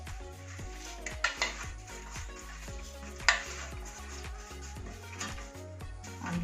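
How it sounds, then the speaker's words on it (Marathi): Roasted masala with onions for a Nagpuri Saoji mutton curry being scraped from a pan into a mixer grinder jar, with repeated metallic clinks and scrapes of a spoon against steel vessels, close and fairly loud, no talking. "हा सगळा मसाला मी आता मिक्सरच्या भांड्यात घेते"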